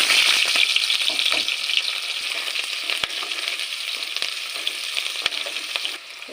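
Onions frying in hot oil for mutton boti curry give a loud, steady hiss and crackle, with a few sharp pops and stirring scrapes, easing slightly at the end.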